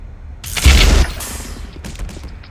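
A weapon fires in the game Half-Life Black Mesa, letting out one loud, sharp blast with a deep boom that rolls away over a second or so, followed by faint mechanical clicks.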